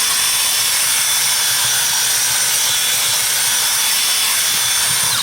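A steady, loud high-pitched whine of a power buffer running continuously against a trimmed hoof, smoothing its edge, close by and unbroken with no talk.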